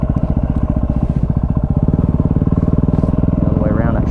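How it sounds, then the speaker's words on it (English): A Yamaha WR250R dual-sport motorcycle's single-cylinder engine revs hard and close for a wheelie, a loud, steady pulsing drone that shifts and climbs near the end. "let's do a freaking wheelie in front of it"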